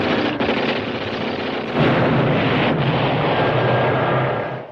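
Artillery and gunfire in a World War II war film: a dense, loud, continuous roar of blasts and rumble that swells slightly partway through, with no voices.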